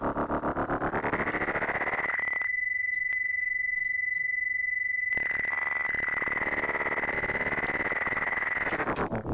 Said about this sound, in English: What if we bring the echo up a bit here?